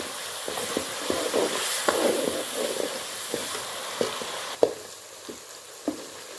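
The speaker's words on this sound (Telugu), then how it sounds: "ఈ విధంగా అంతా కలిసే విధంగా కలుపుకోవాలి, ఆయిల్లో రోస్ట్ అవ్వాలి." Ingredients roasting and being stirred in hot oil for Guntur-style fish curry, a steady sizzle with repeated spoon scrapes and clinks against the pan at an uneven rhythm, close and alone.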